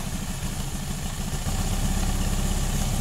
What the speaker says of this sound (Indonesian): motornya sudah bisa hidup kembali